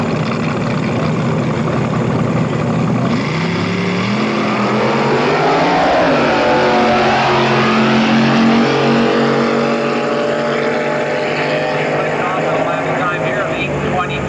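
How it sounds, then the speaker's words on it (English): Hot rod drag race cars at the 1994 Hot Rod Reunion in Bakersfield, California, loudly accelerating down the track with rising engine roar, while an announcer talks over them. "Let's get these two cars down the racetrack."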